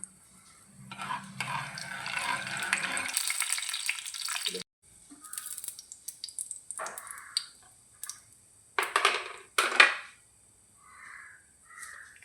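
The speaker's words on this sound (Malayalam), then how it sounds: "എണ്ണ ചൂടായിട്ടുണ്ട്. നമുക്ക് കുറച്ച് ഉലുവ ഇട്ട് കൊടുക്കാം." Fenugreek seeds drop into hot oil for a fish curry and fry with bursts of bright crackling sizzle, interrupted by pauses and sharp spatters, close-up and moderately loud, with some rattling and clatter between bursts.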